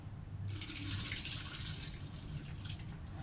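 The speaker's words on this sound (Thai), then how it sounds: "แช่น้ำไว้ก่อนนะคะหอยเชลล์แห้งแล้วเอาน้ำออก" Water from soaking dried scallops is drained off, a steady splashing pour like a running tap that starts abruptly and continues, close and fairly loud with no talk over it.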